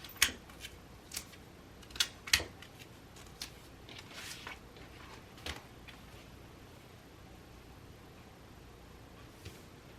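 Scissors snip through taped-together paper pattern pieces for a bag in a few quiet, crisp cuts, most of them close together near the start, with soft rustling afterward.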